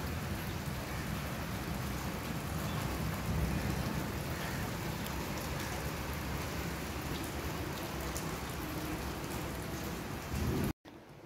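Steady heavy rain falls outside a home on a rainy day, a dense, even hiss that holds throughout before cutting off abruptly at the end, with no talk.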